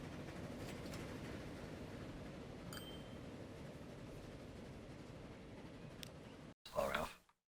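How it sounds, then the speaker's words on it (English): A train in Transport Fever 2 rumbles steadily as it departs, a low rolling rail drone with occasional faint clicks, ending in a brief burst of noise before silence. "Train should be leaving."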